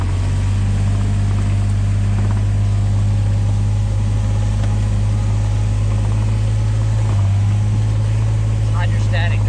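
A diesel vehicle with hydrostatic drive runs steadily nearby, its loud, low, droning engine hum constant throughout while a person talks over it.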